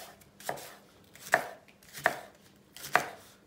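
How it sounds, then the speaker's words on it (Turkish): Leeks are chopped finely with a knife on a board in a home kitchen, four crisp, evenly spaced cuts ringing out close and clear with no talk. "Biraz ufak doğrayacağız."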